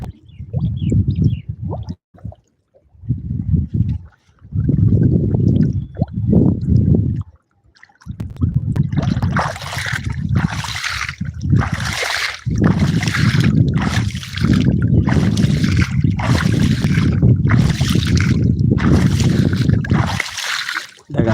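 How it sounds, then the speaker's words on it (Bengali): Someone stepping down into deep floodwater filling a marsh after three days of heavy rain, making a series of separate sloshing splashes, sparse at first, then quicker, heavier surges of churning water. "আমি কিন্তু এখন পানির ভিতরে নামছি এই যে পানি"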